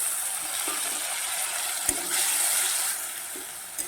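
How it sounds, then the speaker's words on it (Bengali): Masala with tomatoes frying in a pan, a small splash of water added partway; a steady bright sizzle with a few soft clicks of a spatula, no talking. "সামান্য একটু জল দিয়ে দেবো।"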